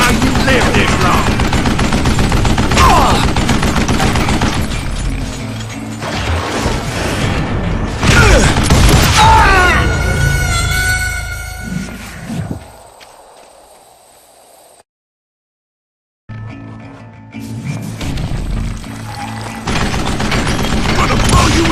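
Rapid bursts of gunfire from the Western shooter game Call of Juarez Gunslinger rattle loudly up close with mechanical clatter, drop briefly into silence, then resume in heavy volleys.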